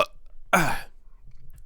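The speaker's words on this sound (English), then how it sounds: "if the burp comes through good" A burp captured on an Audio Technica AT2020 condenser microphone, one loud, short, throaty belch standing alone and close to the mic, with quiet room noise before and after.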